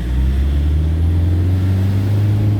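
A car on a test drive after an ABS brake repair gives off a loud, steady engine and road drone with a strong low hum filling the cabin. No speech is heard.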